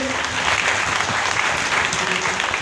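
An audience applauds loudly and steadily in a hall, a dense wash of many hands clapping at once after a call to cheer for Dr. S. Ranjan at a DXN product gathering.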